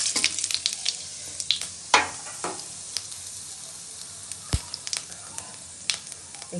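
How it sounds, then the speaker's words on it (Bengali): Cumin seeds crackle and sizzle in hot spiced oil, a steady frying hiss dotted with sharp pops and spatters, close and alone with no talking. "এখন মশলা তেলটা গরম হয়ে গেছে, এখন একটু জিরা ফোড়ন দিয়ে দিচ্ছি"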